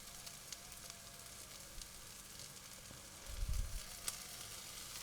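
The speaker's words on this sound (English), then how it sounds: "Now I'm just going to add a couple of tablespoons of lovely tomato puree." A couple of tablespoons of tomato puree sizzle in a frying pan over medium-high heat, a soft, steady crackle that swells briefly partway through.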